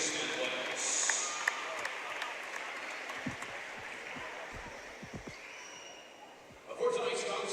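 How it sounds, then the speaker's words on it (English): A gym crowd at a high school basketball game gives steady, moderately distant applause for the game officials, sustained for several seconds with a few louder claps, before an announcer's voice returns. "Please join me in a round of applause for our game officials"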